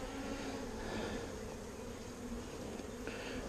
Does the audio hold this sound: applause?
no